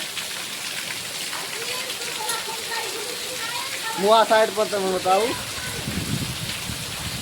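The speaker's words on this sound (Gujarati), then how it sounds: "જો વરસાદ કેટલો પડે છે ને હાલમાં ચાર વાગ્યા છે ને વરસાદ ચાલુ છે" Steady rain pours down during an afternoon downpour, a continuous broadband hiss that runs the whole way through while someone talks over it close by.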